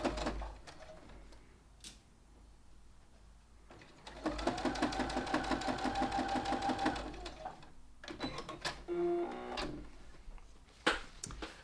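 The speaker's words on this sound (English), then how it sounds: "So I stitched across that line" Sewing machine stitching across fabric strips for party bunting, a steady rapid mechanical whir in the middle with a few short bursts and clicks before and after, fairly close.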